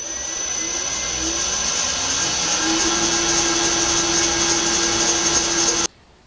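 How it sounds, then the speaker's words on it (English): A milling machine cross-drills a 4mm hole with a constant loud whir, its pitch rising slightly as it cuts, then stopping abruptly near the end. "it's into the mill to be cross drilled. I'm drilling 4mm"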